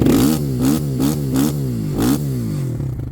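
A Kovi Advance 300 motorcycle engine is revved repeatedly, close and loud, with several rising throttle blips over a rough idle.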